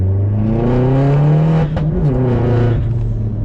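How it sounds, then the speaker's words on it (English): A Vauxhall Corsa VXR hot hatch revs hard in a short second-gear pull, its engine tone climbing, dipping briefly at a shift, then rising again, loud and close with no speech. "it does spin up, but that was just a little second gear pull, nothing too much"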